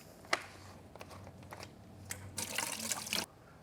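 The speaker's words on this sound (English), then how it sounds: "Now we can add the antifreeze to the bucket." Antifreeze pours into a bucket, heard as faint splashes and drips that lead into a short, louder run of pouring liquid near the end.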